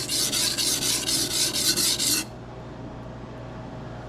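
Kitchen knife sharpened on a King waterstone to raise a burr: rhythmic rasping strokes repeat close up for about two seconds, then stop, leaving quiet room tone.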